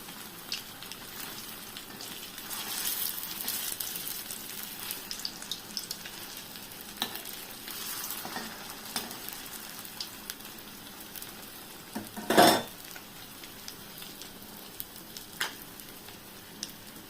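Rohu fish koftas fry slowly in a pan, a soft, continuous sizzle with scattered small pops and one sharper clatter near the end.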